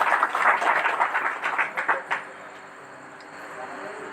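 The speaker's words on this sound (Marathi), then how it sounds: "तुम्ही तुमच्यासाठी एकदा टाळ्या वाजवा" An audience at a women's gathering bursts into dense, steady applause for about two seconds, then the clapping quickly dies away into quiet room tone.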